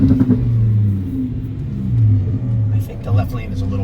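A twin-turbo Lamborghini Huracan with a Dallas Performance build accelerates from a third-gear roll around 60 mph in a roll race, its engine a loud, rising rumble that runs throughout beneath people talking.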